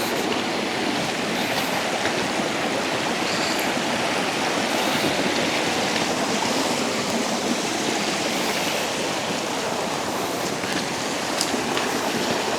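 A river flows at a trail crossing in Cumberland River Park, a continuous loud rushing and babbling of water close by that never lets up, with no talking over it.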